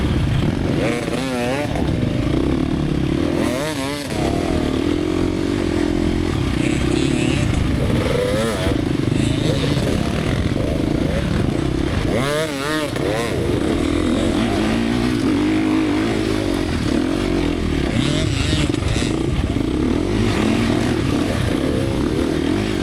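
A dirt bike roars continuously through a harescramble race, with loud, close engine revving and surging as the rider accelerates over rough terrain, plus clatter and scraping from the ground, and a voice faintly talking over it.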